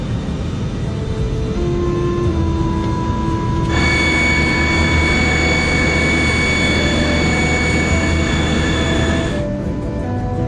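Jet engines of a Comair airliner, flight 191, on its takeoff roll at Lexington: a loud, steady roar with a sustained high whine that strengthens midway, continuous throughout with no talk.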